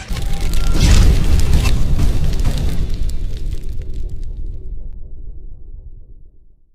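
A deep explosion booms out, swelling into a broad rumbling roar that slowly fades away over several seconds, with no other sounds around it.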